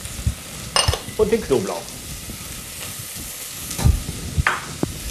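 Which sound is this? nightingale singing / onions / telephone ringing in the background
onions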